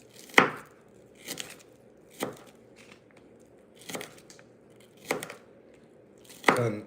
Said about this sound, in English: Cutting onions is never a decent thing